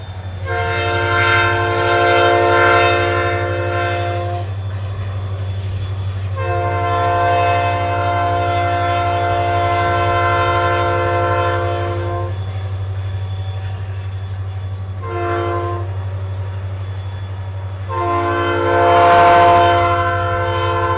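An RCP&E freight train rolling along a Class II line in southern Minnesota and South Dakota sounds its horn in three long chords and a shorter fourth. The blasts ride over a steady low engine rumble, close and loud.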